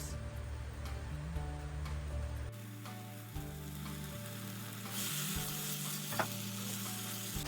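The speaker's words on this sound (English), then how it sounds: "I'm going to cover it and let it cook for 2 minutes." Beans simmering in a covered pot with coconut, a soft steady bubbling sizzle under a low hum, fairly faint and continuous with a small clink near the end.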